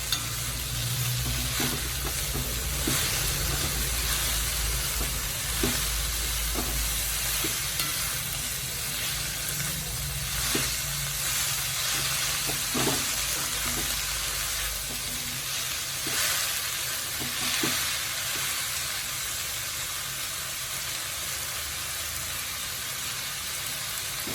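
Spinach stir-fry (keera thoran) being stirred in a hot pan: a steady sizzle with repeated scraping strokes of a spoon against the pan, close and fairly loud throughout, no talking.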